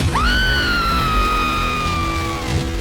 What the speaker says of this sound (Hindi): एक चीख गूंज उठी।